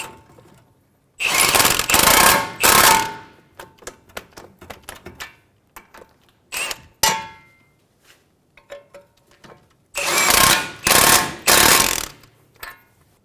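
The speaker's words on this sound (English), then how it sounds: "Tighten the bolts for the knuckle." Bursts of a pneumatic impact wrench tightening steering knuckle bolts on a 2003-2008 Honda Pilot during front brake dust shield replacement, loud rattling runs of a second or so, repeated in separate bursts with quieter clicks between.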